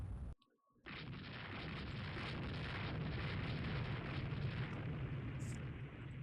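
Heavy naval gunfire from many small guns pounds enemy ships during a Rule the Waves 3 battle, with 1890s Japanese warships involved. It sounds like a continuous loud roar of blasts and rumble after a short silent gap near the start.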